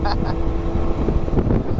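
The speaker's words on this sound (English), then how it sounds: "Them two brothers exhaust, so annoying." Loud Two Brothers aftermarket exhaust on a motorcycle, a steady droning engine roar with wind noise throughout while cruising.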